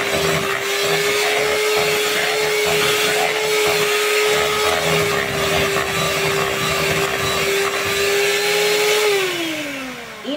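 An electric mixer beats mocha cake batter in a steady, loud, close whir that holds for about nine seconds before winding down in pitch at the end, with no talking.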